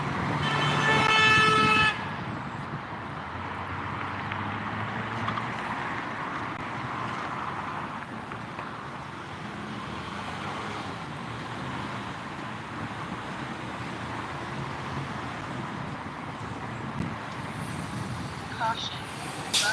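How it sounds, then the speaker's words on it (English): Street traffic on a road with a bus turning, a sharp horn toot blaring at the start, then a steady wash of engines and tire noise around the vehicle, with a voice talking over parts of it. "Caution, bus is turning"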